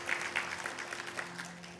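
Church congregation clapping together during a sermon, a steady patter of many hands at moderate volume with occasional louder claps, no voices over it.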